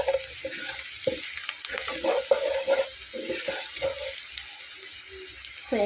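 Water saved from washing a grinding stone, clouded with mustard and poppy seed paste, splashes into a hot pan of oil and black cumin, setting off a crackling sizzle with scattered stirring scrapes.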